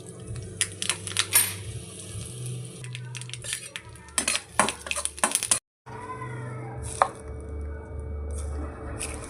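A mustard seed and curry leaf tempering is poured into chutney, with clinks and clatters of utensils, a short spitting crackle, then a brief silence and softer scraping close by.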